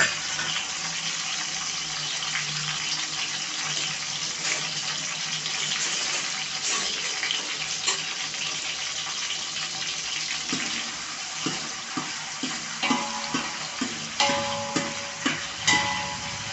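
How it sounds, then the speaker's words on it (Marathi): Finely chopped tomatoes, three of them, cook in five to six spoons of hot oil in a pot on a gas stove, a steady close broadband sizzle with small clinks of stirring toward the end. "आता आपण ह्याच्यात 3 बारीक चिरलेले टोमॅटो घालणार आहोत."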